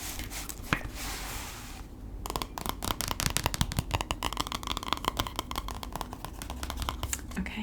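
Jumbo playing cards being handled up close, a rapid run of crisp flicks and riffling taps following a brief rustle, with steady clicking continuing to the end.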